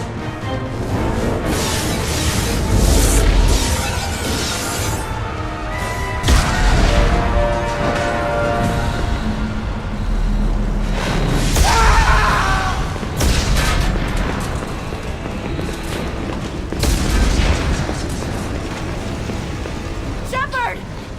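Repeated heavy booms and blasts rock a starship under attack in Mass Effect 2, layered with alarms, debris crashes and urgent voices over a dense, loud roar.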